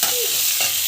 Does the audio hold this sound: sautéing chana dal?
yes